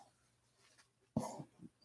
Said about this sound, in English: She got a little bit of a cough.